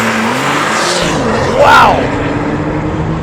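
A Porsche 911 Turbo S in Sport Plus mode makes a launch-control 0 to 60 run, a loud engine roar that surges sharply as it accelerates; one person exclaims over it.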